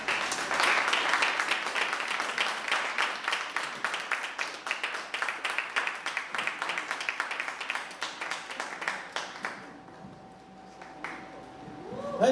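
An audience at a youth event claps and applauds loudly for several seconds, the dense clapping thinning into scattered claps before fading to near quiet, with a brief voice near the end.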